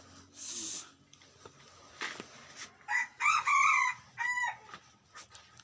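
A rooster crows several times in a row, loud and close, the calls clear above a quiet outdoor background with a few fainter clucks between them.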